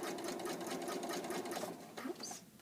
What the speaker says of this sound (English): I'm going to keep sewing in a straight line